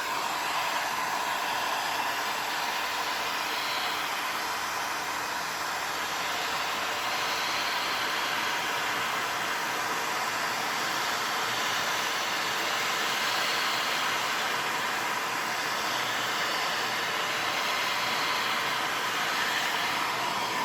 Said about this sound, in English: we'll just give that a quick warm up with the heat gun